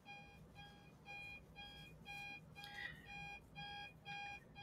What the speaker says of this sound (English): There's an alarm going off in here.